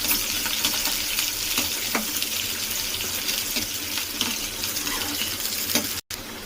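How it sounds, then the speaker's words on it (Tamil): Onion and curry leaves sauté in a pan for a Tamil mutton head-bone kulambu, giving a steady, close broadband sizzle with scattered scraping stirs, holding even throughout apart from one brief dropout near the end. "இப்போ இதை நல்லா வதக்கி விட்டுக்கலாம்."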